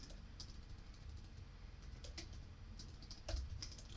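Typing a sentence in Word on a computer keyboard, soft scattered key clicks in an irregular rhythm over a low background hum, faint and close, with no talk.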